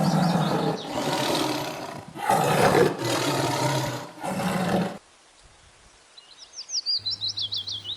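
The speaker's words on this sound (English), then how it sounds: "T for tiger." Several loud, drawn-out roars of a tiger in succession, followed by quieter bird chirps and a low hum.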